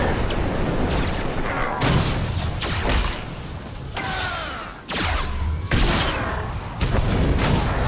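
Turret fire in the video game Star Wars: The Old Republic, loud booming blasts and thuds arriving in repeated bursts about a second apart, layered with whooshing laser and impact effects.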